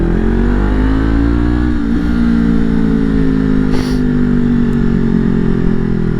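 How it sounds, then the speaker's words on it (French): Motorcycle engine running steadily, a loud close mid-pitched drone with stable harmonic tones and a slight rise in revs, continuous for several seconds without speech. "On prend la moto, on la démarre"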